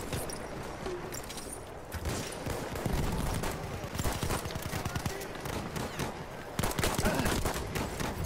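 Arisaka bolt-action rifle shots in the Battlefield 1 video game, sharp cracks fired amid dense, continuous battlefield gunfire and explosions, loud and close throughout with a few shots standing out.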